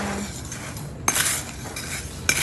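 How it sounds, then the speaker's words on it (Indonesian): Growing media of burnt rice husk being mixed by hand, giving soft scraping and stirring with a couple of sharper clinks, close and fairly quiet. "Kita aduk dulu medianya."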